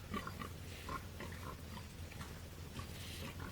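Several pigs grunt and snort close by in short irregular bursts over quiet background noise.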